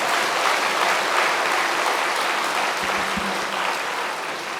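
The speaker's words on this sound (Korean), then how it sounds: "그래서 다시 한번 큰 박수 보내주십시오." An audience at a winter camp gathering gives a choir steady, dense applause that holds at full strength throughout and eases off only slightly near the end.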